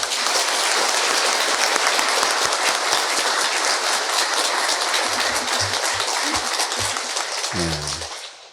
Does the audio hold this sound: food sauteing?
no